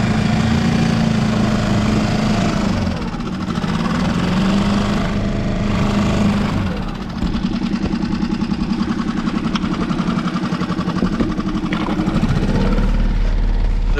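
Outboard motor on a trailable sailboat running steadily near the stern while pulling out, a continuous mid-pitched buzzing drone with slight rises and dips, close and alone with water and wind noise.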